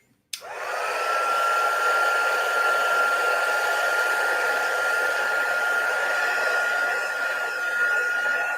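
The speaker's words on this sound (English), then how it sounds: "Hair dryer, yeah, I've got a little dry thing here." A hair dryer switches on abruptly and runs with a steady, loud whirring hum and a constant high whine, close by, with no talking.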